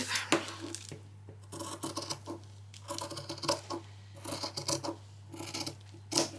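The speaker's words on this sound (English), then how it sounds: "I'm going to come in and just cut everything out." Scissors cut fabric on a cutting board for a child's spring outfit, making repeated crisp snips and sliding rasps in short irregular bursts, close and moderately quiet over a faint steady hum.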